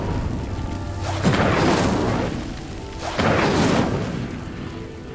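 Spell-cast fire bursts in Hogwarts Legacy, two loud whooshing booms about two seconds apart as a pyre is lit, over a low steady game ambience with no talk.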